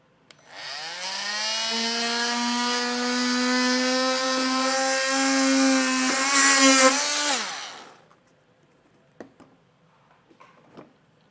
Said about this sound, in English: I like the multi-tool for a clean cut